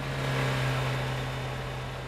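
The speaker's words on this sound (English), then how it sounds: "listen to the cars that sound like they need a lot of maintenance" Cars passing on a French countryside road in Euro Truck Simulator 2, a steady mid-pitched engine drone with a rough, worn-sounding hum that holds close and constant throughout.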